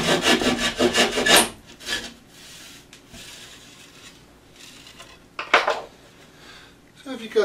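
A utility knife slices through drywall on a skewed section of wall or ceiling: a rough, scratchy cutting burst comes first, then a quiet stretch, and a shorter rasp follows near the end. The sounds are close and moderately loud.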